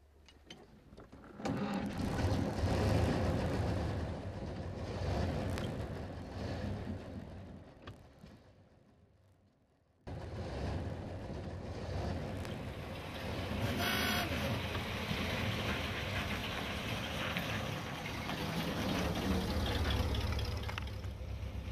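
A 1918 Chevrolet V8 car with factory dual exhaust driving along, its engine chattering and droning steadily up close, fading briefly as it slows, then picking back up with constant mechanical clatter.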